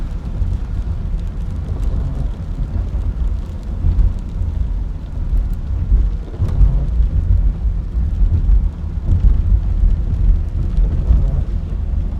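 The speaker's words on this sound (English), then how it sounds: "I'll let you look at just a little bit of the rain here" Rain drumming steadily on a vehicle while driving a highway near Troy, Alabama, mixed with a continuous low road and engine rumble, constant and fairly loud throughout with no talking.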